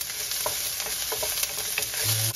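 Onion sizzles and crackles in hot oil in a pan while being stirred, a close, steady frying hiss with small scraping clicks, no voices.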